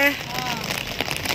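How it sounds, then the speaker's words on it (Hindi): Heavy rain pours down outdoors with a dense, steady hiss and patter close by, and a brief voice is heard at the start. "पर इधर तो बहुत तेज बारिश स्टार्ट हो गई है।"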